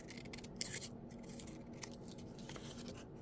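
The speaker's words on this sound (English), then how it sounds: "I'm just going to cut as closely as I can here." Scissors snipping closely around a paper coffee sleeve to make pockets, a run of faint, light crisp cuts with soft rustling, near and quiet without talking.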